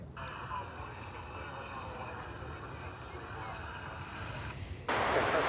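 Passenger airliner going by at Dallas/Fort Worth Airport, a steady broad jet engine roar held throughout at moderate distance, swelling louder in the final moment, with faint voices in the background.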